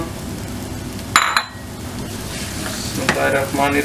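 Chopped medium onion sizzling in hot cooking oil in a pot, a steady loud frying hiss with a sharp metal clink of a spoon and stirring scrapes near the end, no talking.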